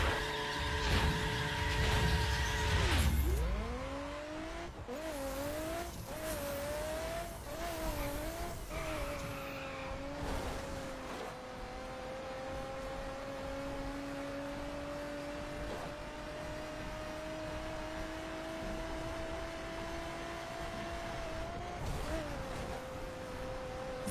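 Racing car in a racing game, opening with a loud tire skid, then a revving engine whose pitch rises and dips through gear changes before settling into a long sustained drone.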